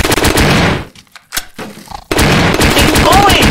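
AK rifle fire in a video game, loud rapid automatic bursts at close range, broken by a short lull before the shooting resumes, with a voice talking over it.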